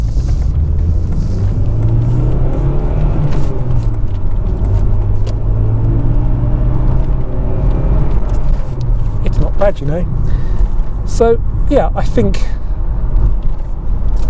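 Two-litre Audi 80 engine on a road test drive, a steady low drone and rumble that holds throughout while people talk over it inside the car.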